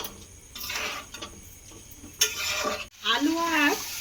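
Chickpeas and potatoes are stirred into frying masala for a vegetarian chana paneer dish, with scraping spatula strokes and a soft sizzle. A louder clatter and rattle follow toward the end, close and fairly quiet overall.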